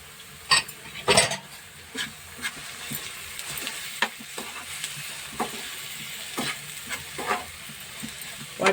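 Ground spice paste frying with browned onion in a pan, a soft steady sizzle broken by repeated sharp scrapes and clinks of a spoon stirring against the metal.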